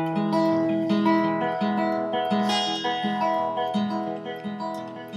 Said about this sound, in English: I use a finger picking pattern that sounds something like this